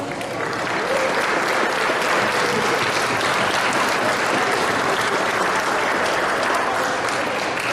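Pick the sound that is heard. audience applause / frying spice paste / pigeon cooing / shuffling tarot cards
audience applause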